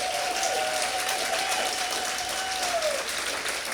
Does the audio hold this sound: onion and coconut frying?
no